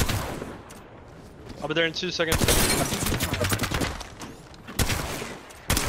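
Rapid gunfire from weapons in the video game Apex Legends crackles in bursts, close and loud, mixed with someone talking over the shots.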